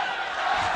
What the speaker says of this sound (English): Enjoying the support from the crowd, Taras Šelestюk.